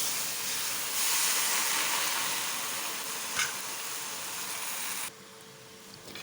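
Washed gongura leaves cook in a kadai with a continuous steamy hiss that swells slightly early on and then drops abruptly near the end, leaving a quieter background.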